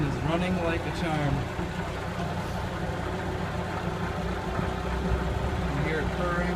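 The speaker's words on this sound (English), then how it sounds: "The engine is running like a charm." Steady low idle of the inboard engine on a 1967 Cal 34 sailboat, a continuous rumbling drone with faint higher tones on top, heard close and unbroken with a little background noise.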